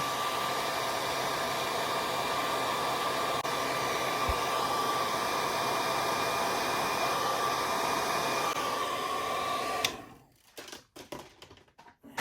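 A hair dryer blows steadily and close for about ten seconds while drying a vintage Hot Wheels blister card, then cuts off, leaving faint handling noises.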